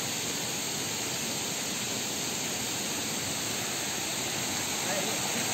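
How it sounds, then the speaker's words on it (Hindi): A waterfall dropping from high up on a hill trek to Nakkati Hill in Assam: a steady, dense broadband rush of falling water fills the whole stretch at even loudness. "ये जो वाटरफॉल है वो बहुत ऊपर से आ रहा है।"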